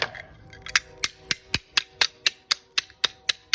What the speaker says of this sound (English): hammer this flat.